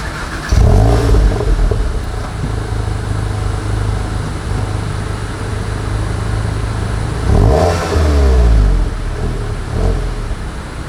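A Volkswagen Golf GTI with a stainless exhaust idles loudly nearby, with two sharp revs rising and falling, one near the start and one about two-thirds through.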